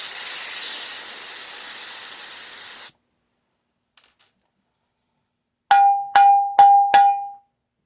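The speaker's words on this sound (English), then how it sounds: "Hit it with this stick here. That sounds pretty cool." A pressurized DIY bottlephone, a plastic bottle struck with a stick, rings out four quick bright pitched taps near the end, preceded by a long steady hiss of air and a stretch of silence.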